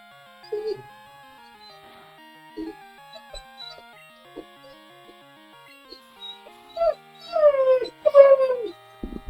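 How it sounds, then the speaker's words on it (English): A dog howls and whimpers indoors, with scattered soft whines early on building to louder, drawn-out wavering howls near the end, fairly close. "What is your problem, dog?"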